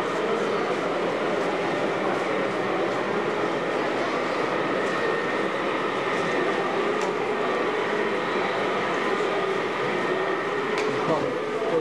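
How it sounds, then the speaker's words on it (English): An Aristo model train locomotive runs on a layout, producing a steady, even mechanical whir and rumble that continues throughout, with faint clicks and a voice talking over it. "we'll bring our Aristo locomotive back into play and send the train on its merry way on the Aristo."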